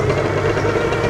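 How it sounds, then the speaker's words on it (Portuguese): Yamaha RD 350 motorcycle running with a Sarachu exhaust tip, a brief, loud, close buzzing engine note at steady revs with no talk. "Que é o caso aqui com a ponteira Sarachu, o som é maravilhoso."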